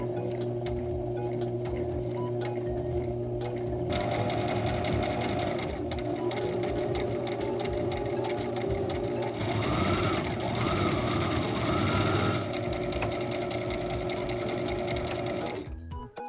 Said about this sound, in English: I use a tight zigzag stitch on my sewing machine to save time on embroidery